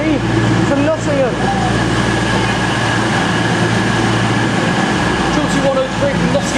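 Train 222-103 from Nottingham rumbling past near Newark Castle, a steady loud rail noise with continuous hum and rattle throughout, close by.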